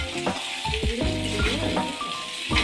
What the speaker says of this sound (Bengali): সবজিটা দিয়ে তারপরে আরেকটু কষাবো।